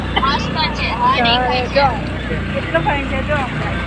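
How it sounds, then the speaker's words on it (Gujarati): A motorboat on the backwaters near Poovar island in Kerala runs with a low, steady engine drone beneath people talking nearby, while another boat travels alongside. "અમારી સાથે બીજી બોટ પણ ચાલે છે."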